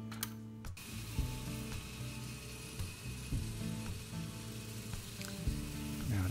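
A sewing machine stitches a python leather boot strap, its mechanism running in a steady series of short rhythmic bursts with brief pauses between them, close and clear with no talking.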